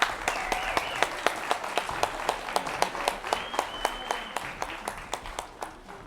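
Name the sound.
audience applauding students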